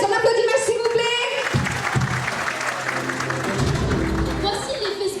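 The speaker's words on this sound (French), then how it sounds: "Bravo Metz, on applaudit Metz s'il vous plaît!" Audience applauding at an end-of-year school show for a CM2 class, a dense roar of clapping with voices mixed in and a brief tonal fanfare at the start and end.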